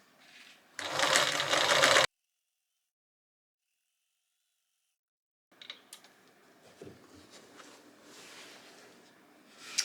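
A sewing machine stitches a quarter-inch seam on the inside of a gingham bodice, a loud steady whir for about a second before stopping, then later quieter rustling and handling of fabric.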